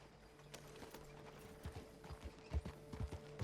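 Horse hooves clip-clopping in the video game Red Dead Redemption Online, a faint, uneven series of soft thuds that grows a little louder and more frequent toward the end, with a low background hum and no talk.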